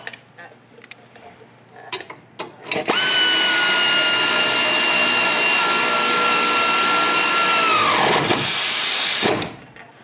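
A power drill retightens the front bumper bolts on a 2024 Ford F-350 Super Duty. It runs loud and close in one sustained whir for about five seconds, then winds down, and a couple of clicks come before it.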